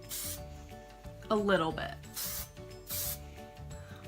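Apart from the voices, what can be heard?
spraying hair product onto curls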